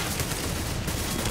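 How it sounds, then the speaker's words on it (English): Dense, continuous gunfire fills a professional Counter-Strike match on the Nuke map, loud overlapping shots with no break and no talking. "under a lot of gunfire"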